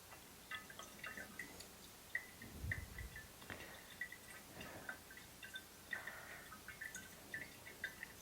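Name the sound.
gasoline draining and dripping from a stored generator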